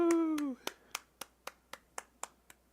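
A short vocal whoop gives way to about nine slow, evenly spaced hand claps, each one sharp and close in an otherwise quiet room.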